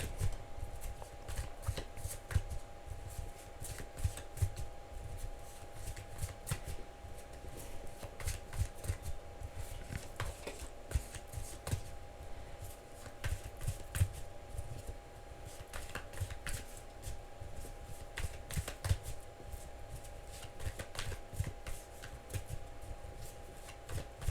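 A deck of playing cards being shuffled by hand, a steady run of papery riffles and flicks close by with a constant faint tone in the background and no talking.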